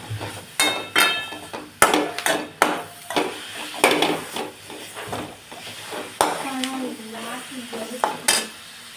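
Ginger and garlic fry in a pan for veg palav, with a soft sizzle under repeated scraping and clinking of a spatula or spoon against the metal in irregular bursts, close by.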